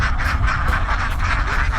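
A flock of ducks on an open-field farm, a flock of about 900 birds, quacks in a dense, continuous chorus close at hand, steady throughout with no speech.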